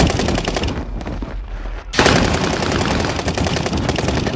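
Loud, dense automatic gunfire in a shooter video game, with rapid overlapping shots almost throughout and a brief lull near the middle before the firing resumes.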